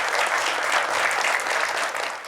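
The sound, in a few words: audience applause at spelling bee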